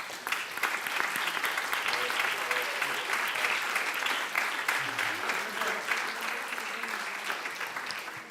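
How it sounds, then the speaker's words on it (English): A conference audience applauds the organizers of an architecture event, the clapping dense and continuous for several seconds before gradually thinning toward the end. "let's give them a short applause for preparing the first LINA"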